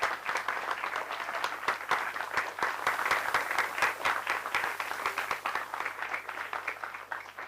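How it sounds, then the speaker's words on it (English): Audience applause at a college National Space Day 2025 event, a steady patter of scattered hand claps sustained for several seconds, moderately loud in a hall with a faint constant hum underneath. "Please give a big round of applause."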